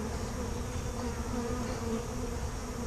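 A dense, steady drone of honeybees buzzing inside a hive in an old oak tree being removed, loud and continuous from up close with no voices, cutting off at the very end.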